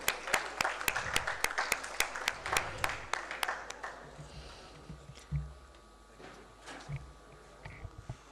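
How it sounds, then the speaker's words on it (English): A conference audience at a bank's international trade seminar claps in a brisk burst of sharp claps for about four seconds, then the applause fades into quiet room noise with a few soft thumps. "a round of applause for him"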